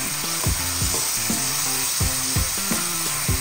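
Vegetables sauté in fish sauce in a pan for ginisang gulay, a loud, continuous sizzle with rhythmic scraping strokes of a spatula repeating about every half second, and no voices.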